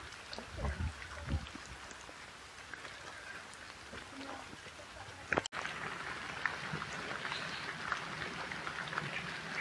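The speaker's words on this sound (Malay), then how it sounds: "Kita teruskan perjalanan walaupun hujan." Rain falling steadily on a forest hiking trail, a constant close patter of drops on leaves and ground, with a sharp knock midway and faint voices in the background.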